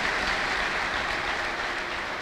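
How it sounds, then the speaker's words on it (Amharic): A church congregation claps for Jesus Christ during a prophet's service: dense, steady applause from a large crowd that fills the whole moment with an even, hissing roar and no pauses. "እስቲ አጨብጭቡ ለጌታ ለኢየሱስ ክርስቶስ ክብር።"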